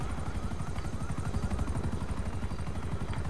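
Helicopter in the GTA 5 Online video game on PS4, a steady, loud rotor chop with a rapid pulsing beat that runs throughout without pause.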